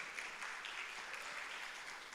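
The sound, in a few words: applause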